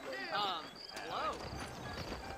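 Horse hooves clip-clop in a Western video game set in New Ulster, steady and fairly close, mixed with a horse's whinny and someone speaking over them.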